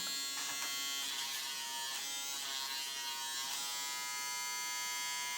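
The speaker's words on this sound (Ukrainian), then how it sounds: "Зараз у нас вже працює тример і працює сама голівка." A Braun electric shaver with its trimmer running buzzes steadily at close range, a constant high whine with no pauses.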